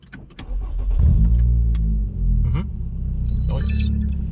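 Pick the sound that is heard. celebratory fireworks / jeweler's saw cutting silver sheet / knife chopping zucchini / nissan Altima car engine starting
nissan Altima car engine starting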